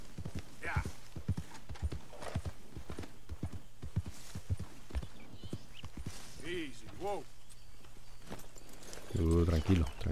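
Horse hooves clip-clop at a slow, uneven walk in Red Dead Redemption 2, soft and close under game ambience. The horse snorts and whinnies briefly, and a louder burst comes near the end.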